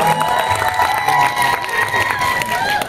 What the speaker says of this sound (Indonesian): Fadlan Hulao sebagai Sunarto, tepuk tangan dulu dong.